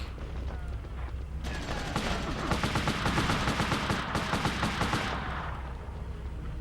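In the Army Men: Land Sea Air video game on PlayStation, a tank's gun fires a rapid, sustained burst, loud and rattling over a rumbling battlefield background, then tapers off.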